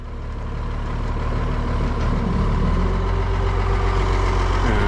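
A Ford TW25 tractor sits idling close by with a steady, loud, low diesel rumble, its pitch wavering slightly and holding even throughout with no other sounds.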